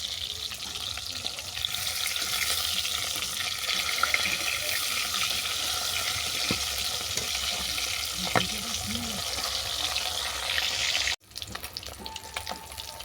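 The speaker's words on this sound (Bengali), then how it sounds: "মাছের এক পিঠ বাদামি করা ভালো হয়ে গেছে, অপর পিঠটাকে আমি উল্টে দিচ্ছি।" Chital fish frying in hot oil, a steady close sizzle running without a break before it cuts off sharply near the end, leaving quiet room sound with a faint tone.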